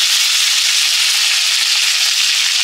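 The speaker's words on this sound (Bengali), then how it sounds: "এবার ওই একটু আদা বাটা দিয়ে দিচ্ছি" Dal with drumstick pulp and ginger paste sizzles steadily in a pan, a close, even, continuous hiss with no breaks.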